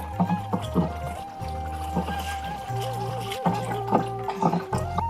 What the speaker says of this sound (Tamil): இந்த மாதிரி ஒரு நல்ல பைப்பை வச்சு நல்லா கலக்கி விடணுங்க